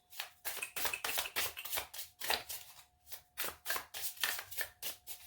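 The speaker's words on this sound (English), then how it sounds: "I guess I'm shuffling." Oriens tarot cards shuffled by hand, close up, making quick crisp riffling and slapping bursts in a steady, uneven rhythm with no talking.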